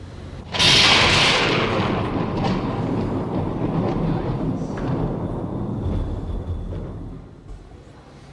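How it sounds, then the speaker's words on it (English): A sudden loud thunderclap from an approaching storm on a secluded island breaks out, then rolls and rumbles for several seconds before slowly fading. "That storm seems to be getting closer."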